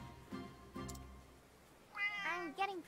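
A cat meows in the video game Octopath Traveler 2, giving two clear, drawn-out meows near the end after some brief earlier vocal sounds, heard close and fairly loud.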